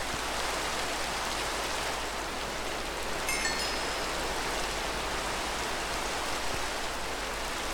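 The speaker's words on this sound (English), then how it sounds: "It's still raining." Steady, even Minecraft video game rainfall hissing without a break, a dense wash of noise with no voices over it.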